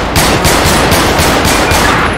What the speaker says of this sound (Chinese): 哇塞，直接开枪啊！